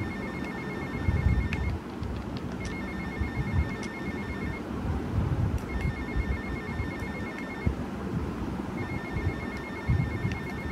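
A phone rings in the video game GTA Vice City, with repeated electronic ring bursts at regular intervals over a busy, rumbling game background, and no voices.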